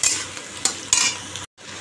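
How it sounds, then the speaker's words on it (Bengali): Frying food sizzles steadily in a pan at home, broken by a few sharp stirring scrapes and clinks before a brief gap near the end. "ভাজাটা এখন করবো।"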